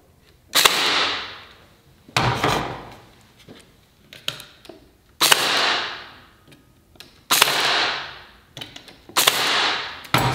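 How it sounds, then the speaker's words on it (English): A pin nailer fires pins into wood for a glued French cleat shelf, giving six sharp, close snaps spaced about two seconds apart, each with a brief rattling tail, and no voices. "Little pin nailers are handy."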